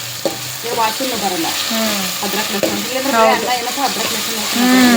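Vegetables with ginger garlic paste sizzling in a pan for a North Karnataka style pulao, loud continuous frying hiss with scraping stirs and a voice talking over it, close up.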